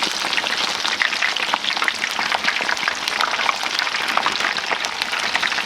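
Tater tots deep-frying in oil in a pan, a dense steady sizzle and crackle throughout, close and continuous with no speech.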